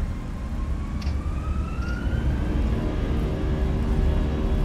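An Airbus A320's IAE engines spool up for takeoff in the Fenix A320 flight simulator, a thin whine rising steadily in pitch over a loud, constant roar, with no voices.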